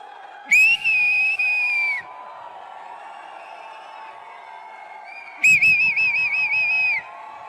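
Two loud, sustained shrill whistles from a crowd at a phone launch event, each around a second and a half long and separated by a pause, with faint crowd noise underneath.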